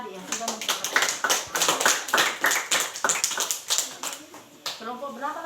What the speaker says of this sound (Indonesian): Kasih aplaus untuk kelompok 1 dengan kelompok 2 tadi yang sudah memperhatikan